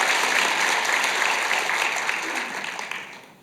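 A congregation applauds during a Korean church worship service, a dense wash of clapping from many hands that holds steady and then fades out over a few seconds.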